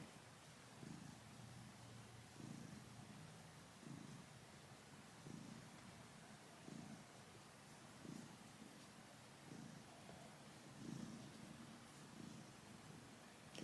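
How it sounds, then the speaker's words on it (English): A feral cat purrs steadily and softly up close, a low rhythmic rumble pulsing about once a second with no other sounds over it. "He's purring."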